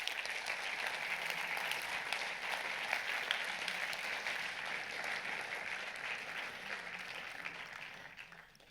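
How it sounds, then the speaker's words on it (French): Audience applause at a film festival award ceremony, sustained clapping from a seated crowd, fairly distant and even, slowly fading toward the end. "Sous vos applaudissements, bien évidemment."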